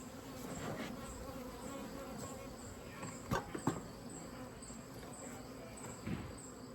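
Honey bees hum in a steady, dense drone from a 24-frame Layens horizontal hive, heard close throughout, with a couple of sharp knocks in the middle and a faint voice now and then.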